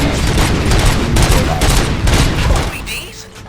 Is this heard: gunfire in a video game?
yes